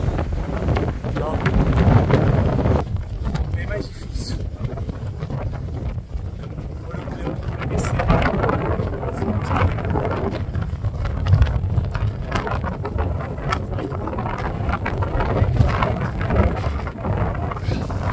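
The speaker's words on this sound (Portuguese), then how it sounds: "a tempestade começou" Storm wind buffets a hiker on Reinebringen mountain in Norway. It is a loud, continuous roar of gusts battering the microphone, rumbling and rising and falling for the whole stretch.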